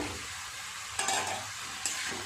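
Boiled potatoes being stirred into a simmering masala in a pan, a soft frying hiss with two brief scraping stirs, quiet and close.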